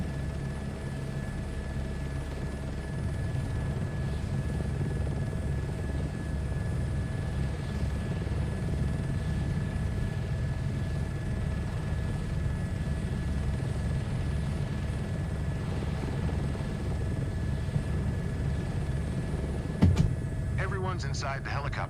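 A helicopter in Microsoft Flight Simulator 2024 drones with a steady low rotor thump and engine whine throughout, close and continuous, with talk over it and a brief clatter near the end.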